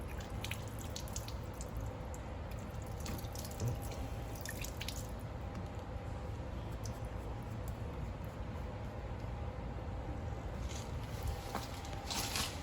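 Water drains from the fresh water tank of a 2019 Clipper 17FQ travel trailer in a steady outdoor trickle and patter with occasional drips, faint and continuous.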